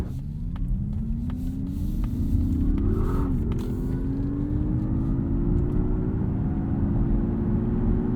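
A 2022 Mazda MX-30 Premium Plus FWD electric car accelerates at full throttle, a steady rising motor whine layered over loud road and tire rumble inside the cabin.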